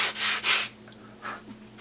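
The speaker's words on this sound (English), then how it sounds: "take your sanding block, sandpaper, a sanding sponge, whatever you've got, and just go over the edges a bit" Two quick rasping rubs of a sanding block against wood, then a softer third stroke, close and alone with no talking.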